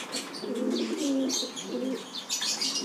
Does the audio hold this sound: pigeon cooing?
yes